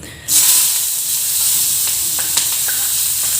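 Loud sizzling bursts up as macaroni pasta ingredients hit hot oil, then settles into a steady hiss with a few small pops and scraping stirs.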